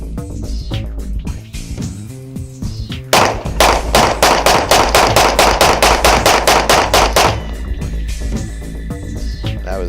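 A sequence of loud, sharp 9mm pistol shots from an original Smith & Wesson M&P at a shooting range, firing in a rapid, evenly spaced string of about fifteen reports, with scattered quieter shots before and after.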